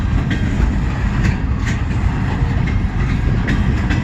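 A CN freight train rolls past at Emmett, Michigan, a loud, continuous rumble with steady clickety-clack from the wheels and no talking.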